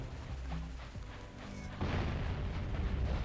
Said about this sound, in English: As you can see, there is bombs being shot at us. There is another cannon here